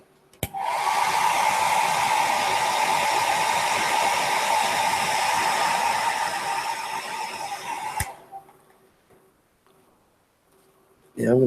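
Hair dryer blowing steadily on a watercolor still-life painting, a loud continuous close whir for about eight seconds that then cuts off, leaving near silence.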